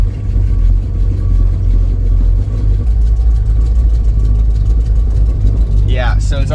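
A Dodge Dart with a carburetor problem idles with a steady, low engine rumble after warming up, and speech is heard over it near the end.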